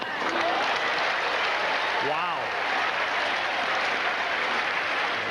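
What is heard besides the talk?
tennis crowd applauding at the US Open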